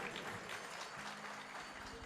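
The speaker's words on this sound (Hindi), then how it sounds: "मेरे छोटे से आग्रह पे ताली बजा करके सम्मान करें।" Applause rises from an audience at a devotional Khatu Shyam bhajan event, faint and distant, steady over two seconds with a low hum underneath.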